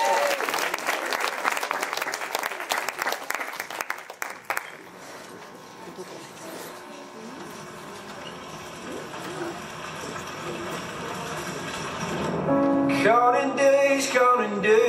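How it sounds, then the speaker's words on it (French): An audience at a cabaret evening applauds a dance performer: a vigorous burst of clapping for about four seconds that quickly dies away into a quiet room, then music starts near the end. "on l'applaudit bien fort"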